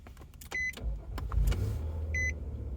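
A push-button-start car comes to life: a pair of short electronic beeps, then a low engine rumble that swells and settles into a steady idle, heard close by.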